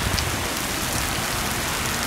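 Heavy rain pouring down in Buca, Izmir, a dense steady hiss of drops drumming on surfaces, loud and continuous with no voices.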